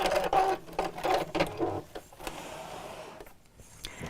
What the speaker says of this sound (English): we'll just sew until we've got a decent sized turning gap for around about 4 inches or 10 centimetres